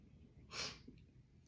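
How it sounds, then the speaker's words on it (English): A single short, breathy sneeze bursts out once, quiet and close, against a faint background hush. "I'm gonna sneeze"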